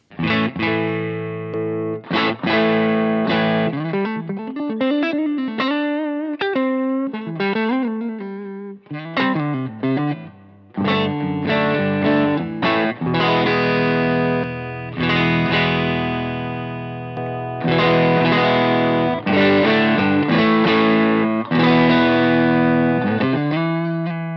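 Electric guitar played through the right side of a JHS Double Barrel overdrive pedal with the gain all the way down, strummed chords and single-note runs ringing out loud and continuous with short pauses, no voices.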